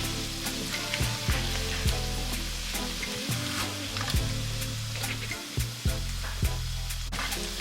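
Octopus being stirred into a pot of Ghanaian cabbage stew, with a steady sizzle and bubbling throughout and repeated soft scraping knocks of the spoon at a regular pace, close by and with no one talking.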